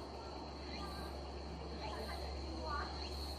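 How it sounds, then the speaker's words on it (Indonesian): A steady high-pitched cricket trill sounds continuously over a low hum, with faint voices in the background. "Jangkrik."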